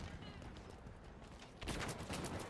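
Dense gunfire from many directions during a collegiate Halo playoff match, a steady crackling barrage that grows louder and busier partway through, with no voices.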